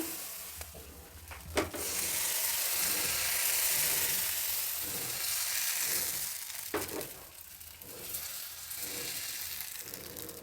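Appam batter sizzles and fries steadily on a hot tawa, with a couple of sharp clicks from a wooden spoon and a soft scraping rhythm under the constant hiss.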